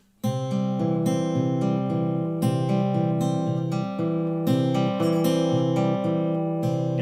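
A fingerpicked acoustic guitar plays a repeating pattern, bass and treble notes plucked together in pinches at a steady rhythm, close and clear with no voices.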